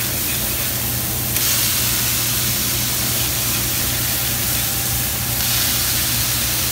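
Metal spatula scraping crusted burger patties with fried onions across a hot griddle, heard as steady broadband sizzle and hiss with louder scraping passes, close and continuous.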